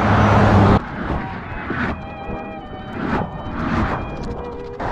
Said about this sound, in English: there's like pretty heavy traffic